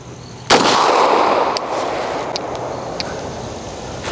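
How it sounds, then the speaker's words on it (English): A Beretta pistol fires one loud, close 9mm shot of 124 grain Nautilus ammunition at a helmet, a sharp crack with a ringing tail, then faint small clicks and handling noises. "we're gonna be using 124 grain 9mm ammunition from Nautilus Ammo"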